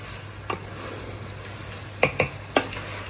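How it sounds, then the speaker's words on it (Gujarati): Prawns fry in a spicy masala over a raised gas flame with a soft, steady sizzle broken by a few sharp utensil taps and scrapes against the pan. "આપણે મસાલો જે છે ને એ બધો પાકી ગયો પછી આપણે એમાં હોંડિયા નાખ્યા છે. હોંડિયા નાખ્યા પછી આપણે ગેસ થોડો ફાસ્ટ કરી દેવાનો."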